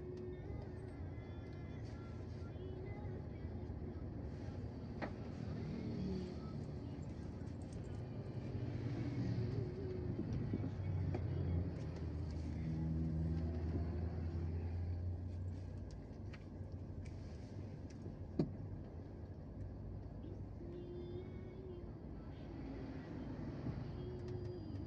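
Heavy trucks labour up a steep hill in a traffic jam on the Jalan Lintas Timur at Betung, between Palembang and Jambi. A steady, low engine rumble drones on throughout, close and continuous, with one sharp knock near the end.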